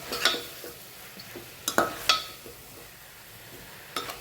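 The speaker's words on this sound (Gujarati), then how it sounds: "બસ હવે સરસ મિક્સ કરી લઈએ." Cabbage being mixed in a pan gives a few sharp scraping and clinking strokes of a spoon against metal over a quiet, faint background.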